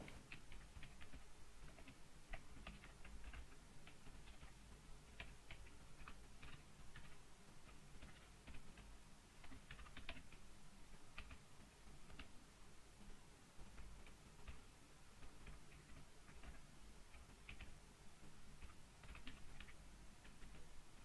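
Steady typing on a computer keyboard as an SQL select statement is entered, with quick, irregular clicking keystrokes continuing throughout, close and fairly quiet, with no talking.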